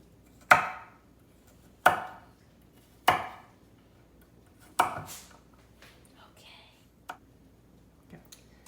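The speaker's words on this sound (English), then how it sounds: "Now that we're done dicing up the carrots" A knife dicing carrots on a cutting board for a stir fry, four distinct, widely spaced chops with sharp attacks and short decays, then a few softer taps and clicks, close and clear.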